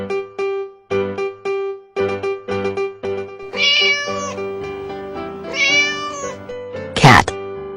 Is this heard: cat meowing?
yes